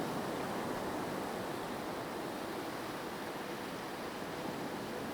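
Beach surf churns up sand in shallow water: a continuous broad hissing wash of breaking waves, steady and close, with no voices.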